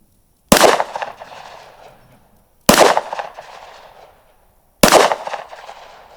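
A Smith & Wesson 10mm pistol fires three loud, sharp shots about two seconds apart at an outdoor range. Each crack is followed by a long, fading echo, with no talking in between.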